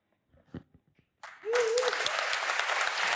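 After a few faint scattered sounds, an audience at a metaverse conference breaks into loud, sustained applause that rises abruptly and continues dense and steady to the end.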